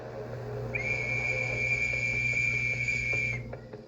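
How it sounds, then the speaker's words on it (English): A single long, steady, shrill whistle blast signals an attack on a WWI Argonne battlefield. It holds for about three seconds over a low background hum, with no speech. "Suddenly, the whistles blew,"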